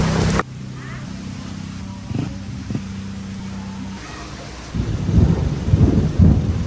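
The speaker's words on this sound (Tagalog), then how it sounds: "Sana lumakas pa yung ulan." Low rumbles of thunder roll beneath a steady wash of rain, with the downpour growing heavier and louder toward the end.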